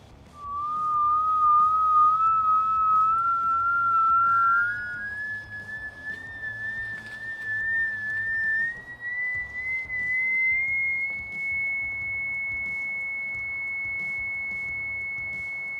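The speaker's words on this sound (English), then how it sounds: "That higher pitch sound and guiding indicator tells me exactly where I need to dig." A drain inspection locator gives off a steady high-pitched guiding tone that rises gradually in pitch, loud and continuous for the whole stretch with no talking.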